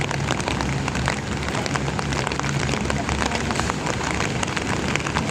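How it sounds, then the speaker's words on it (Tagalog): Heavy rain drums steadily and loudly on an umbrella up close, a dense continuous patter of drops with no breaks. "Ay malakas pa ang ulan dito."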